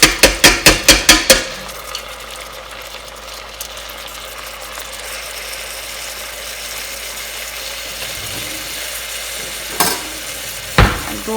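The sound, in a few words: rice being stirred and sautéed in a pot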